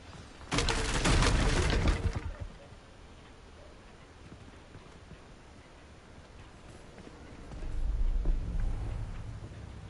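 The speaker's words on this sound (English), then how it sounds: "Is that fireworks down there?" Fireworks in the video game Hogwarts Legacy: a loud, dense crackling burst of pops lasts about two seconds, then a quieter rumble swells again near the end, with no voices present.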